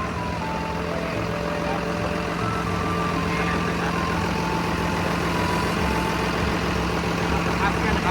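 The diesel engine of a 2020 Komatsu WA380-8 wheel loader idles with a steady, droning hum, heard alone and constant throughout.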